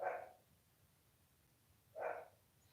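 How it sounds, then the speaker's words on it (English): A dog gives two short, faint barks about two seconds apart against quiet background hiss. "Why now the dog?"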